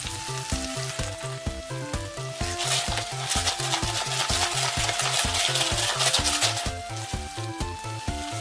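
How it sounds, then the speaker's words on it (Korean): Onion and garlic sauté in olive oil for tofu noodle pasta, a steady bright sizzle with stirring scrapes under a rhythmic musical beat throughout. "올리브유를 두르고 양파와 마늘을 볶아요."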